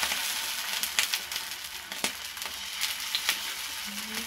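Batter for dosa fries in a hot pan, giving a steady close sizzle broken by scattered sharp crackles and pops.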